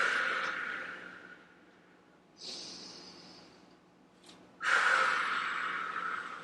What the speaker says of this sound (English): 2 big breaths here.